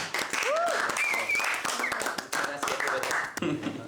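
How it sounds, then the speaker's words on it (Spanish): Young people in a Spanish-language teen series applaud a classmate, brief clapping heard under overlapping voices and a whistling, rising tone. "Un aplauso para el compañero."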